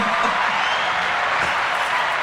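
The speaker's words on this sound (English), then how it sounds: "Applause will work." Steady applause from a small group runs evenly through the whole moment, a dense, continuous wash of claps with no clear gaps, fairly loud and close, with no talking over it.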